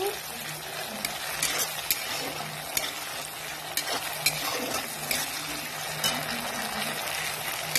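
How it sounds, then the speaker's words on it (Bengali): Mustard paste sizzles steadily in hot oil while being fried and stirred for a tengra fish curry, with soft scraping strokes recurring throughout. "রাই বাটাটা হালকা করে ভেজে নিচ্ছি"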